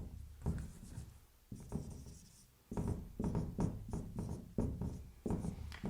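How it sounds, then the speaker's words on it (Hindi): Someone writes the letter L by hand during a physics lesson, a run of close scratchy pen or chalk strokes in short bursts with brief pauses, steady and fairly loud with no talk. "एल लिख देता हूँ जैसे मैं"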